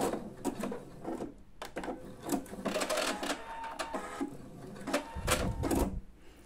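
A sewing machine stitches a seam on a caraco top, running close with rapid mechanical clatter, brief stops and restarts as it backstitches, then a louder low rumble near the end.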